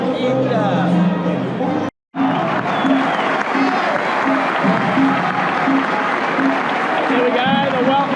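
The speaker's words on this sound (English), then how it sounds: "the welcome applause for Boca" A huge stadium crowd at Boca Juniors' La Bombonera roars and applauds as the home team comes onto the field. The noise is dense and sustained, with chanting and hubbub, broken by one brief cut, and a nearby voice talks over it.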